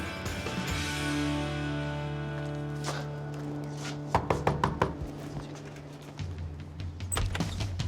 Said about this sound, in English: I'm gonna just knock on the door.